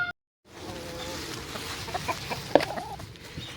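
Chickens cluck steadily close by, with a few sharper clucks standing out over low farmyard background noise.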